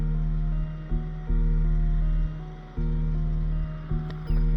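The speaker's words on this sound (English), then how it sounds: "Blades spin good, engine is strong again." A Kohler engine on a Troy-Bilt riding mower runs with its blades spinning after a head gasket and stator replacement, a steady, loud, close droning hum that dips and rises in level several times, with no talking.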